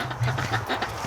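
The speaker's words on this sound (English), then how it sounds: "there's a whole bunch of ducks in the building here, in the shed." Ducks wintering in a shed at about -15 degrees quack in a close, busy chorus, with overlapping nasal calls and one stronger low quack standing out.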